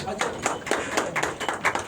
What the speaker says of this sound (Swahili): Wapi makofi ya Koge Investor tafadhali.